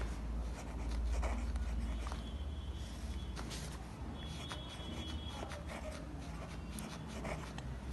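A pen scratches steadily across paper at close range in a quiet room, with short strokes and small pauses between them. No one speaks during the writing.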